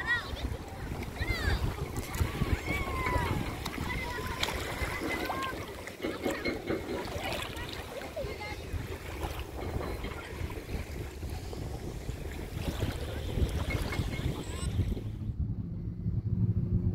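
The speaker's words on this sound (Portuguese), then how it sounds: "E também hoje tá passando bastante barco" Boats on the river at Areinho river beach in Porto: a continuous wash of engine rumble, wind and lapping water under muffled voices, with a busy, churning texture that quiets off at the very end.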